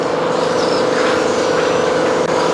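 Kyosho Mini-Z front-wheel-drive radio-controlled car trailing a narrow touring car on a track, a steady high-pitched electric motor whine holding continuously at close range with no pauses or talk.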